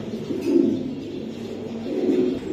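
Racing pigeons in a loft give low, rolling coos in two swells, near and moderately loud, with no talking.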